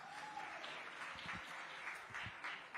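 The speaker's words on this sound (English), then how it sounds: "So a big round of applause for all of us, I suppose." Audience applause at an on-stage talk event, a steady, faint wash of clapping from a crowd heard at a distance.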